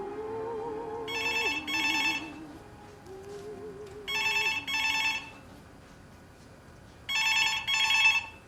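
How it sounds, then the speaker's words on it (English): An old-style telephone bell rings in three double bursts, spaced a few seconds apart, over soft background music with no talk. "Phone?"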